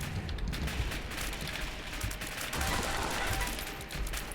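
Turrets fire in The Binding of Isaac Afterbirth+ as a dense, continuous stream of rapid gunshot-like bursts and pops, loud and unbroken throughout, layered over low game rumble.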